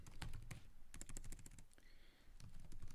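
Rapid clicking keystrokes on a computer keyboard come in quick bursts with short pauses, close and fairly quiet, with no voices.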